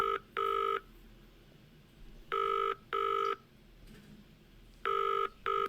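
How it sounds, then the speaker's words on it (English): Touch-tone keypad dialing in the video game Penelope Pendrick, heard as four clusters of two crisp beeps each, spread out with quiet gaps between them and no talking. "I'm gonna phone this guy, I think."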